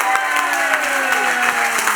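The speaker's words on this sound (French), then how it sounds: "cher public, vous pouvez vous applaudir." An audience at a French community theatre show applauds, with dense, steady clapping from the crowd and no break across the whole stretch.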